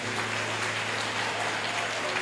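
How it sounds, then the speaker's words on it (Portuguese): A church congregation applauds in a dense, steady patter of many hands, continuous and fairly loud across the brief moment, with no break. "Aplauda ele do seu lado, aplauda"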